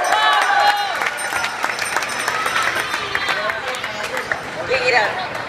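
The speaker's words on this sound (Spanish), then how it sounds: "Así que con un aplauso se va a cumplir eso" Crowd applause and cheering at a Christmas parade at City Mall in Guayaquil, a dense wash of clapping and excited voices over busy crowd chatter, loud and close throughout.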